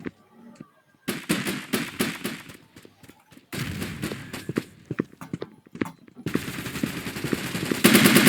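Bursts of rapid gunfire in the blocky online shooter Blockpost, loud clustered volleys with short gaps, sharper and denser near the end.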